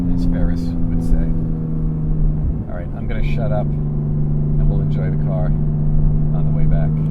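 A 2022 Porsche Cayman GTS 4.0 drives along with a steady, close engine and exhaust drone from inside the cabin, a low constant rumble with small rises in revs.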